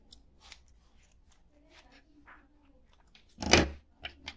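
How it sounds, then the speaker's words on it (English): Scissors snip through crochet yarn at the close of a round, a single crisp, loud cut near the end after quiet handling noises. "fasten and cut your yarn"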